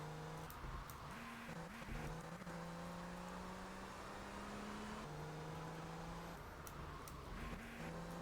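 The Stinger sports car in GTA Vice City drives with a steady, loud engine drone throughout, shifting pitch a few times as it speeds up and eases off, with no talking.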